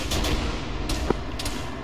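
Gunfire in a military video game battle, several sharp shots and booming cracks close and at a distance over rumbling combat noise, no voices.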